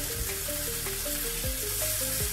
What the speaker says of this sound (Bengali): এসে এখানে বেগুন চপ করছি